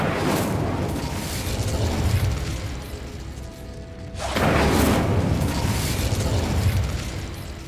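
Fire spell Incendio cast in Hogwarts Legacy: a loud roaring burst of flame that swells, dips briefly, then surges again with a dense whooshing rumble, heard alone without speech.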